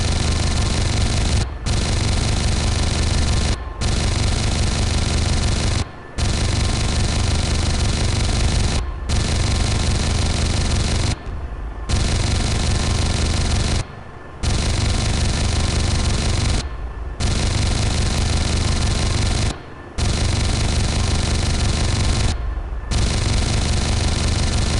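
Sustained loud helicopter gunfire in the Comanche 4 video game, with cannon bursts and Hydra rockets firing in long dense volleys broken by short gaps, steady and close with no talking.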